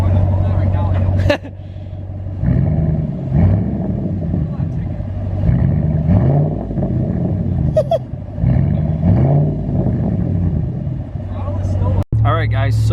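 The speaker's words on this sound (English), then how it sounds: "Go hit the throttle once. I want to hear it back here." A stock Hemi Ram truck engine rumbles at idle and surges in several short throttle blips, heard from behind the truck under ongoing talk.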